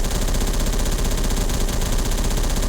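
HK51B carbine, a variant of the HK21 firing at 950 rounds per minute, shooting in Phantom Forces: one unbroken, fast-rattling automatic burst, loud and steady for the whole stretch with no pauses.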